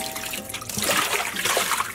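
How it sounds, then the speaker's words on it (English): Water running while hand-dyed yarn is washed, a soft steady trickle and splash that swells in the middle, close and alone without talk. "Let's wash the yarn."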